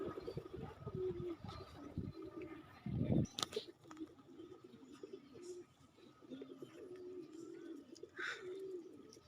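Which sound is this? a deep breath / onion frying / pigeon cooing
pigeon cooing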